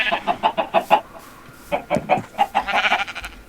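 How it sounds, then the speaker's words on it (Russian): Chickens in the video game Minecraft cluck in quick, rhythmic bursts of short, close, fairly loud clucks. There is a brief pause, then a second run of clucking that picks up again toward the end. "Адовые куры."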